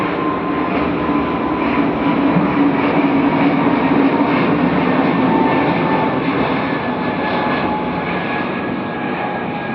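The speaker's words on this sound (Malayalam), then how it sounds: "ഒരു ഫ്ലൈറ്റ് അതിലങ്ങ് പോയതാണ്" A loud, steady jet engine roar fills the air continuously as an airplane passes low overhead near an airport, with no voices.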